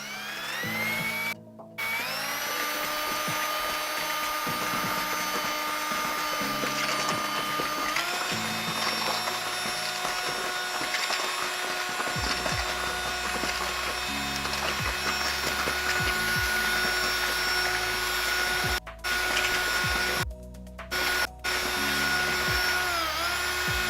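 Power mixer or drill dry-blending microcement powder with dye, a loud continuous whirring drone that shifts pitch as the motor speed changes, briefly cutting out a few times.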